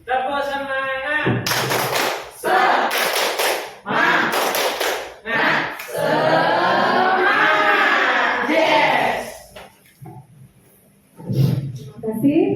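A group claps in sharp, patterned bursts for a rhythmic spirit clap in a school gathering of teachers, loud and close, alternating with stretches of someone talking and chanting.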